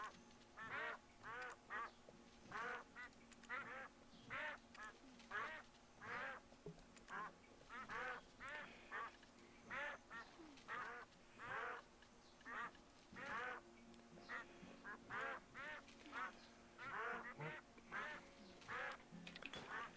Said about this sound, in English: Boy, those ducks are really starting to bother me.